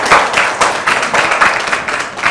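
An audience applauds at a televised Burkina Faso show: steady, dense clapping from many hands, loud and continuous throughout, with no speech over it.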